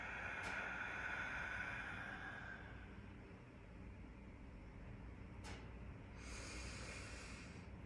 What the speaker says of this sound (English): Let's just breathe together.